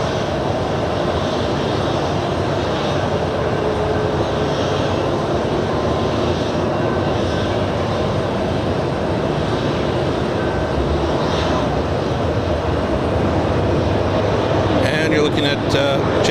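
A JetBlue airliner inbound to JFK airport, its engines a constant loud rumbling roar heard throughout, with a voice talking over the noise.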